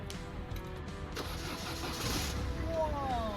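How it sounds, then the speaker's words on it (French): A Citroën C4 car engine cranks and catches, settling into a steady mid-pitched running hum, heard close with a faint voice over it. "on va tester le moteur"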